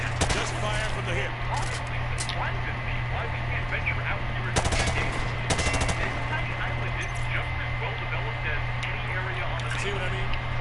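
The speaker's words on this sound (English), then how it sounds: "He sprayed bullets all over the damn place." Machine gun fire sprayed from the hip during a Modern Warfare 2 campaign mission, long loud rattling bursts over constant engine rumble, with a voice talking through the shooting.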